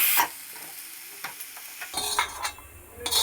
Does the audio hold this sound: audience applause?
no